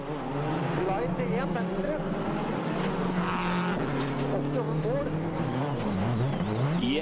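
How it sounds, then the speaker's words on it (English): A Subaru rally car at WRC Rally Argentina 2007 flashes past, a loud engine roar with shifting pitch over a few seconds, heard under commentary speech. "the Subaru driver flashes past on the bottom of your screen there"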